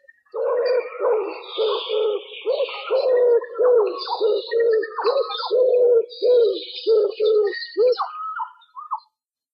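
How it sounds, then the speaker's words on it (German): A dove coos in a steady run of low, soft notes, close and clear, with faint higher chirps from other birds above it. "Die Tauben haben gehurt."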